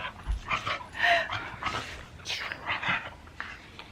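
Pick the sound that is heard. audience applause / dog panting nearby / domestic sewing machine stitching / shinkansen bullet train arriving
dog panting nearby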